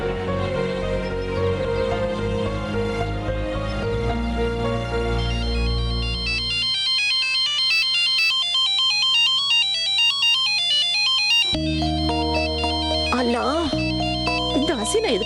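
Melodic phone ringtone playing loudly and continuously, its tune shifting partway through, with a voice speaking over it near the end.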